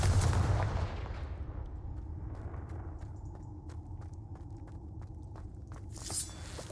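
A Confringo fire spell cast in the Hogwarts Legacy video game inside a tight, spider-infested cave: a loud burst at the start, then a rumbling ambience with scattered sharp impacts and a brief flare near the end.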